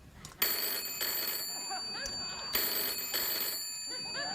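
A telephone rings on a late-night TV talk show set, two long bursts of ringing separated by a pause, with studio audience noise and murmuring in between.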